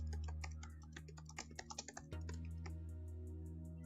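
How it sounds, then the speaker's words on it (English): A computer keyboard being typed on, a quick burst of close key clicks in the middle over a steady electronic hum. "Type in your marketing inputs."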